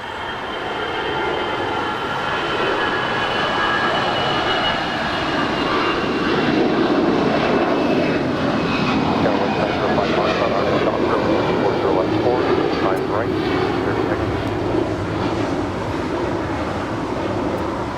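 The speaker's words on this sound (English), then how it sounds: "American Airlines Flight 2936 heading to St. Louis, Missouri. It's an A319 already rolling down" An American Airlines Airbus A319 rolls down runway 25 right at Los Angeles International Airport on its takeoff run, a steady, loud jet roar that holds for the whole stretch with a faint rising whine on top.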